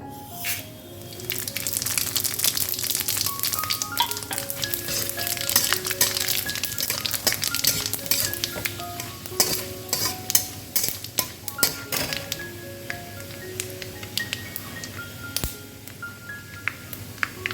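Mustard seeds, nigella, radhuni, fenugreek and fennel sizzle and crackle in hot oil for a Bengali mixed vegetable labra, a steady close frying hiss with scattered pops.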